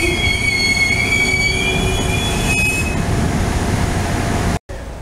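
Loud, high-pitched squeal of train wheels grinding on rails over a heavy rumble of a passing train, ending in a sudden cut.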